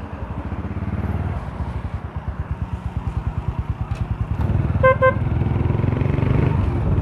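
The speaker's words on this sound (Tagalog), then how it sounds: "i-test namin yung busina ni Bok Tyson mga ka-take-care" A motorcycle idles with a rapid chugging putter, and a loud horn sounds in two short honks midway through while the engine keeps running.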